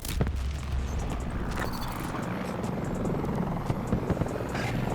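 A video game helicopter's steady rotor chop and engine drone fill the scene, mixed with rumbling noise and occasional distant thuds.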